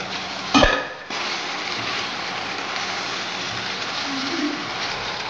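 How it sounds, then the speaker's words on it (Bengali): A sharp metallic clank comes as the lid lifts off a pot of chicken curry. A steady, close bubbling sizzle of the simmering curry continues throughout. "10 মিনিট হয়ে গেছে, এবার ঢাকনাটা তুলে দেখি।"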